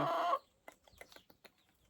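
A loud squawk opens, then a hen clucks softly in a run of short, scattered notes nearby.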